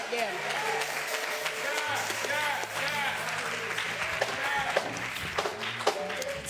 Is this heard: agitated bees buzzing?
no